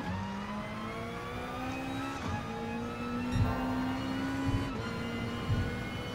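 Racing cars in a video game rev and shift through the gears, with a Nissan and a Volkswagen on track, the engine whine rising and dropping steadily and loud, with brief bumps and no talk.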